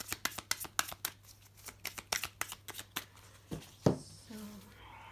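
Tarot cards are shuffled up close in a rapid run of crisp riffling flicks and slaps, quieting near the end to a few softer shuffles.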